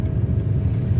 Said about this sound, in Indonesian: Nah, ada Fortuner yang mau nyalip